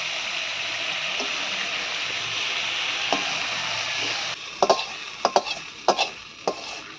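Pashi fish fry in hot oil with a constant loud sizzle, followed by sharp splattering pops and clatters as more fish pieces are dropped into the pan.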